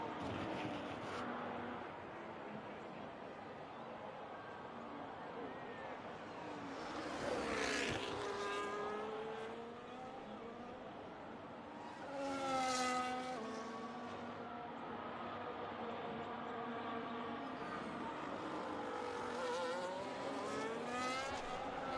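Race cars in a sim racing game at an Australian circuit whine past faintly in a few separate passes, each engine note rising and then fading into a quiet background.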